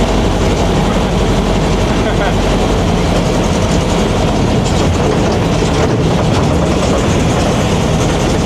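A Volkswagen Baja Buggy with a 2.0 engine drives in gear, its loud, dense engine roar and road rumble filling the whole stretch without letup, with wind buffeting and rattling mixed in.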